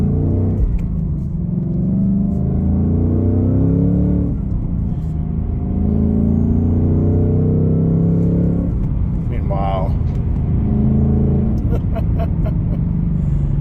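A deep, throaty car engine rumbles continuously up close, rising and falling with revs while someone talks over it.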